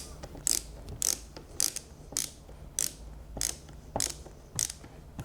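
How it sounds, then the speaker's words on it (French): Two screws being driven into a flange fitted to a tank's domed base, heard as a steady series of about nine sharp ratcheting clicks, roughly one per half second, close up with a low background hum and no talking. "je vais venir visser deux vis"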